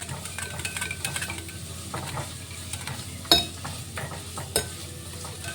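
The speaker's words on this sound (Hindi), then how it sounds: "तो अच्छे से मिक्स कर लेंगे, इसमें लम्स बिल्कुल भी ना रहे" Spoon stirring a thick gram flour (besan) and yogurt batter for Punjabi pakora kadhi, a steady wet scraping swirl with a couple of sharper knocks against the bowl, close and alone.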